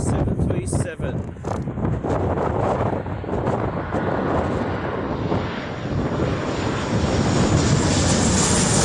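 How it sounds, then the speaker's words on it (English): An ordinary Jet2 Boeing 737 passenger jet comes in to land, a loud continuous engine roar close by with heavy wind buffeting the microphone throughout and a rising whine toward the end. "Just an ordinary Jet 2 737."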